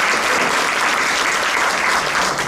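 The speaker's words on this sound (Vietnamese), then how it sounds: "Một tràng pháo tay rất lớn cho quý vị." Loud, dense applause from a theatre audience at a Vietnamese community variety show, a steady wash of many hands clapping with no gaps throughout.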